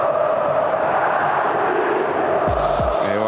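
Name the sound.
football crowd chanting for Gabigol in the stadium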